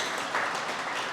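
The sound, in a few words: audience applause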